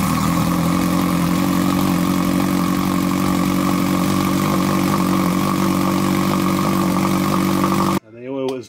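A Kawasaki Ninja H2 motorcycle engine runs at a steady, loud idle close by after an oil change, with a constant droning hum throughout. It cuts off abruptly at the end into a brief vocal sound.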